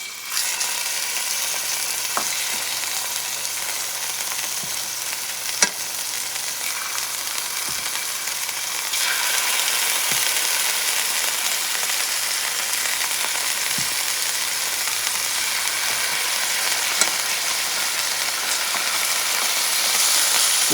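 Scallops sizzle steadily in a hot pan, a continuous bright frying hiss with faint occasional taps and stirring, rising slightly in intensity midway.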